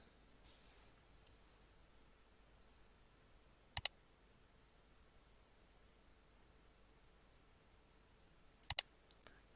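Keyboard keys and a mouse button click sharply in two brief double clusters, several seconds apart, while drafting in AutoCAD software, over a very quiet, faint hiss of room noise.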